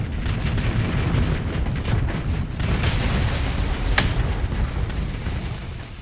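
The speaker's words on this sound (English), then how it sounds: "There comes another torpedo." A heavy, rumbling torpedo explosion roars through the Starsector space battle, a loud sustained boom with a brief sharp crack near the middle and no pause in the low-end roar.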